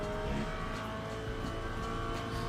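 Race car engine in the sim racing game Le Mans Ultimate, holding a dense, steady, close harmonic drone throughout with only slight wavering in pitch.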